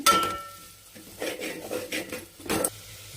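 Spoon scraping and clinking in a cooking pot while turmeric and chili powder are stirred in for Tamil Nadu-style kushka, several bursts of metallic stirring close up with no talk.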